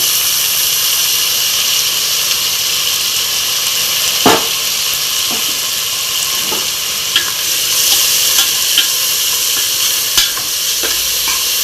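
Tomatoes fry and sizzle in a pan for paneer biryani, giving a loud, steady hiss close up, broken by occasional spatula scrapes and taps, with no one talking.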